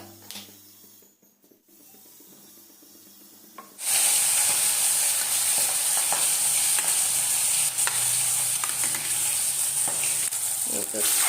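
Fish dropped into hot oil: after a few quiet seconds a sudden loud, steady sizzle erupts and continues, crackling with frequent spatters and pops of splashing oil close by.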